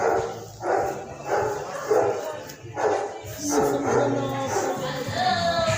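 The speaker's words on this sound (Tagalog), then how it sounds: "So may aso guys. Ang laki, diba?" A large dog barks and yips repeatedly in loud bursts, with people talking and a noisy indoor crowd around it at a birthday party.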